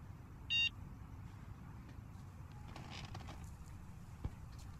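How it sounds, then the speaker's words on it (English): A short, clear electronic beep-beep tone pattern sounds once near the start in the Hello Neighbor early alpha game, standing out over a low ambient rumble, with a faint click later. "And something keeps beeping."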